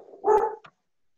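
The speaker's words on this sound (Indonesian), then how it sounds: "tuh ada suara guk guk guk" A dog gives one short, sharp bark with a quick faint follow-up yelp, heard alone and fairly close before silence.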